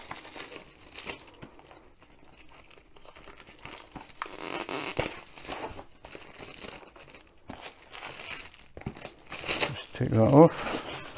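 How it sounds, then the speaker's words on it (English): Cellophane wrapping being torn and crinkled off a diamond art kit box, intermittent rustling and tearing bursts with a louder crunch near the end, quiet and close. "this box comes sealed in cellophane to make sure we don't get any dust or anything getting into the canvas"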